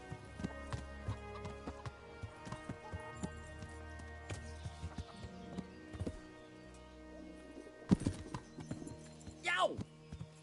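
Rhythmic clopping of horse hooves in a game, with a whinny near the end and voices talking over the scene.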